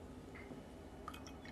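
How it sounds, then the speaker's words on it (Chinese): Water poured from a teapot, a soft dripping, trickling liquid sound, quiet and close, with no talking. "我们常常会听到倒水的声音。"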